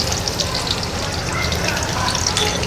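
Onions sizzling as they go into hot oil in a pan while cooking Padma river ritha fish curry, a steady loud crackling fry with dense popping spatters throughout.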